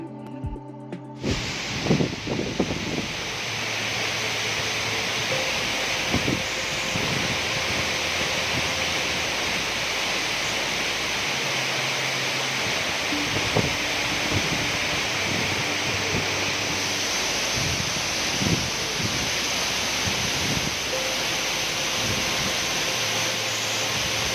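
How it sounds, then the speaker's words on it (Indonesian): Waterfall at Curug Lawe in Ungaran, heard up close as a loud, steady roar of crashing water that fills the whole stretch without a break. "Kali ini aku coba berada tepat di bawah air terjun itu dan rasanya dingin sekali"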